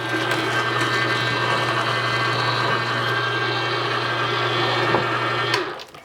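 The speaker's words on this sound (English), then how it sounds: "I have a plunger for this juicer in case I need to push the vegetables" An auger juicer grinds vegetables with a steady, loud motor drone and a low hum, running evenly for several seconds before cutting off abruptly near the end.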